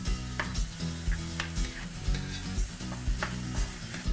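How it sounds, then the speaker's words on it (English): Chopped onion and ground beef frying and being stirred in a pan for cheeseburger pie, a steady sizzle broken by repeated scraping stir strokes at a regular pace, close and fairly loud, with no talking. "Stir it up there with the beef."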